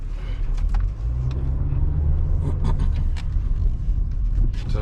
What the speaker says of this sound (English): So we're just gonna test drive the car, see what it feels.